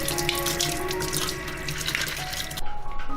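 Tap water runs steadily into a basin to soak beef short ribs, making a close, continuous splashing rush. The pitch of the flow shifts near the end.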